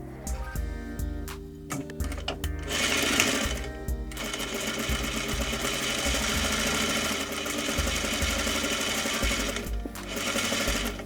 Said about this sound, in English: You're going to stay stitch the top edge of your front pieces.